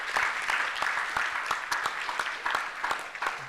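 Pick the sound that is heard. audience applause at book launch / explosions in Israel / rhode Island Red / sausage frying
audience applause at book launch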